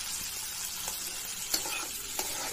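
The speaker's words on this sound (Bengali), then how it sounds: "ভাজা ভাজা করে এর মধ্যে আমি মাটনটা ছেড়ে দেবো।" Mutton frying in hot oil with spices, a dense close sizzle broken by a few sharp stirring clicks, with no voices.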